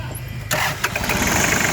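A Kubota GL43 turbo tractor's small diesel engine cranks and catches about halfway through, then settles into a close, steady rumbling idle.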